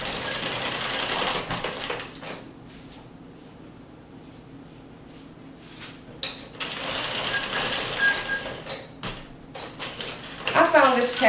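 Addi Express King knitting machine cranked by hand, its rattling clatter starting loud, dropping to a quieter stretch, then returning in busy bursts with a brief squeaky whir near the end, with speech partly over it.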